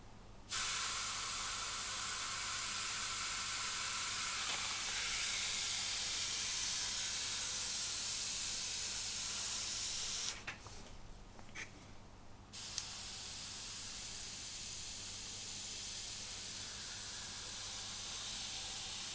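Gaahleri Mobius 2 airbrush blowing air from a compressor, a long steady close hiss that dips briefly, then resumes slightly quieter, over a constant low hum.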